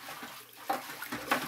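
Water is poured into a bucket to dilute a copper sulfate etching solution, giving a brief, close splashing pour with a couple of stronger surges.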